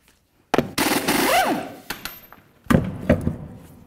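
A power impact tool rattles off wheel lug nuts on a Chevy Silverado during rear wheel bearing work, giving loud hammering bursts in two separate runs with short pauses between them.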